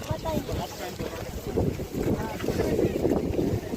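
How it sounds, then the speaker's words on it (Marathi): Wind gusting through a foggy jungle on a trek, a steady rushing roar buffeting the microphone, with faint voices under it. "मस्त हवा सुटली."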